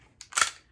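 A pistol magazine drops free during a fast reload: one sharp metallic click followed a moment later by a brighter clack, close and loud, with no talk.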